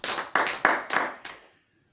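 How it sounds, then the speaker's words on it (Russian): A church congregation claps its hands in a few sharp bursts of applause that fade out after about a second and a half. "Давайте похлопаем."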